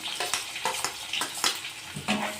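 Sliced onions frying in oil for a Nellore-style vada curry, a steady close sizzle broken by repeated sharp scraping stirs of a spoon against the pan.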